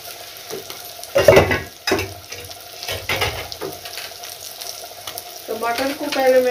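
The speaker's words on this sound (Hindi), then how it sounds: "अच्छे तरीके से इसे भून लेना है।" Potatoes are fried and stirred in a pan for a sabzi. A close sizzle is broken by several loud scraping and knocking bursts from stirring, and a brief voice-like sound comes near the end.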